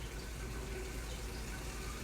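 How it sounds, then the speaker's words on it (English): Water from an emptying washing machine rushes through a sewer drain pipe, a steady broadband gushing flow that continues evenly throughout at low volume. "I can hear the water running"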